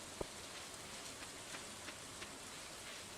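Steady rain in the Stardew Valley video game hisses as a faint, even wash with a few soft drop ticks and one sharp tap near the start.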